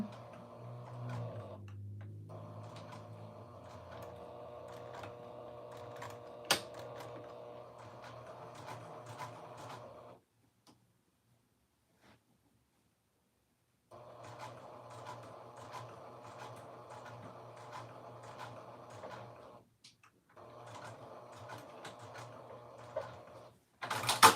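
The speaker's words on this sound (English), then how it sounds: "we're going to sew this down now at an 1/8" A sewing machine stitching a garment tag onto a handmade dress, running in two steady bursts of rapid mechanical ticking separated by a few seconds of silence, close and moderately loud.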